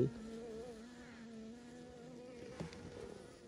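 Honey bees buzz steadily at a hive with old black comb, a faint, continuous drone with wavering pitch and a brief louder bump midway, no talking.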